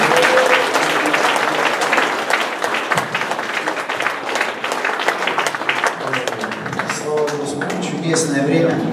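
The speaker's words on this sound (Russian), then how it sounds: "Аплодисменты Иисусу." A church congregation at a worship service claps loudly and continuously, a dense wash of applause with voices mixed in, thinning slightly toward the end.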